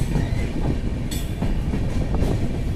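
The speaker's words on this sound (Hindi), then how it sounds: "अब ये ट्रेन खुल चुकी है।" The Gorakhpur-Mumbai Ratnagiri Superfast Express rolls along the rails after departing, giving a steady loud rumble with rhythmic clickety-clack of wheels and occasional brief squeals, no voices over it.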